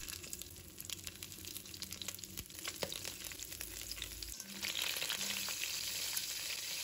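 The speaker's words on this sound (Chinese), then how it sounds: "油热之后，把螃蟹放入锅中" Crab fries in hot cooking oil in a wok, a dense, crackling sizzle that swells louder partway through as the pieces settle into the oil, close up with occasional sharp pops and no talking.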